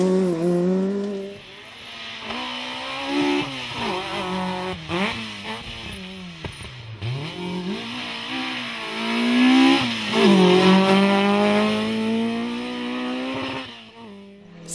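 A 1400-class rally car races flat out along a dusty gravel stage in the BTRDA championship. The engine is loud and close, revving up and down through repeated gear changes for the whole stretch, with no voices.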